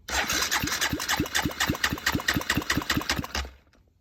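A freshly rebuilt Honda Grom motorcycle engine, cold, cranking over on the starter with a compression tester fitted: a quick, even train of chugging pulses, close and loud for about three and a half seconds, then stopping.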